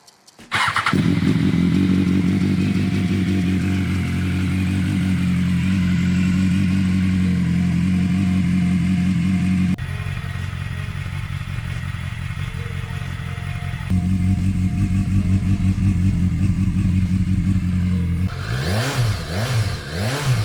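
A BMW S1000XR motorcycle with an Akrapovic exhaust and headers idles and revs with a deep, throaty rumble, blipping the throttle a couple of times and rising into a sharp rev near the end.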